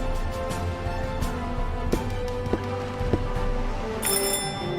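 A doorbell rings as a prank in the adventure game Deponia, a bright electronic ring near the end after a few soft clicks, over steady game music and ambience.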